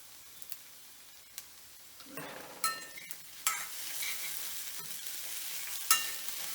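Fish curry spices and torn leaves are stirred in a hot pan, a steady sizzle punctuated by a few scraping strokes and taps, close and alone without talk.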